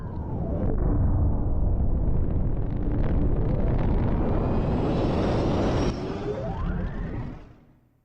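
A rocket launches in the video game Gobliiins 4 with a loud, sustained roaring blast and whooshing rush that swells, holds for several seconds, then dips and fades away at the end.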